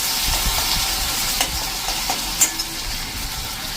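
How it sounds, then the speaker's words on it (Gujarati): Ginger, chili and garlic fry in hot oil with a steady, close crackling sizzle, broken by a few sharper pops and stirring scrapes, with no voices. "આદુ મરચાં અને લસણ જે ચોઈચું છે ને એ નાખી દેશું. અને એને આપણે આ રીતે તેલમાં કૂક કરી લઈશું."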